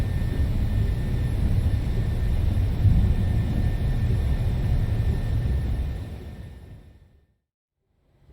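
Twin jet engines of a PMDG 737 in MSFS 2020 spool up for takeoff as a broad, steady roar that holds for several seconds, then fades quickly into silence.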